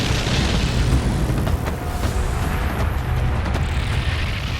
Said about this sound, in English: all of a sudden now you have enough mass to actually kick a supernova explosion off